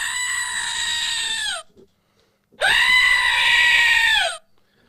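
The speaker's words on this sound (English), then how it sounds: "It's like a more full goat scream. It is loud. It's a loud screaming pickle" A squeezed pickle-shaped squeaky toy lets out two loud, drawn-out goat-like screams, separated by a brief silent pause, each cutting off sharply.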